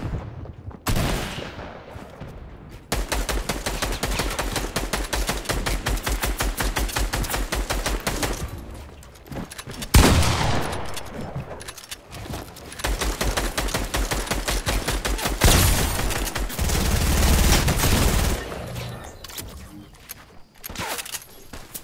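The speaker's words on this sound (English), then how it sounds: "somebody else is shooting here" Sustained automatic gunfire from a video game shootout, long rapid bursts separated by short pauses, loud and close, with occasional single shots and little talk over it.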